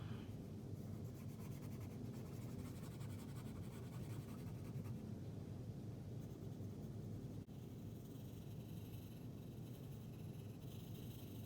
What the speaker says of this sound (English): It's very easy to go too dark when you're working with scribbling, so make sure you're lightening up your pressure when you're using your pencil